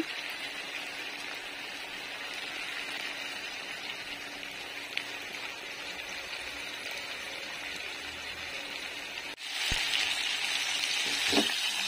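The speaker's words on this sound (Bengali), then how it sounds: "এদিকে দেখো আমার সবজিটা প্রায় কষানো হয়ে এসেছে।" Winter vegetables for a Golda prawn dish fry in a pan with green chillies, giving a steady, moderately loud sizzle throughout, followed by a brief sharp clatter and a slightly louder burst of crackling near the end.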